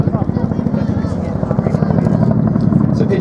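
A Chinook twin-rotor helicopter performs a flying display at an air festival, its loud rhythmic blade thudding beating fast and close throughout, swelling slightly toward the end.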